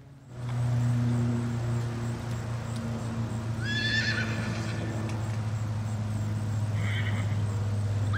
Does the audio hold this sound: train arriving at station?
no